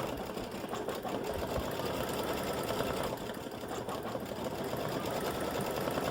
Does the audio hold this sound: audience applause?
no